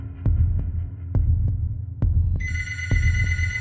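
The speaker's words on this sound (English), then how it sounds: "Suddenly, the phone rang, echoing in the apartment." Telephone ringing in an apartment, a bright electronic ring starting partway through, heard over a low throbbing heartbeat-like pulse and hum that runs throughout.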